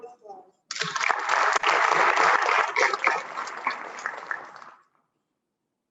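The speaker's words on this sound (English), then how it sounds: "Let's give them all another round of applause." Audience applause at an FFA awards ceremony for Keystone degree recipients, a dense sustained round of clapping from a large crowd that starts abruptly, holds steady for about four seconds, then fades out.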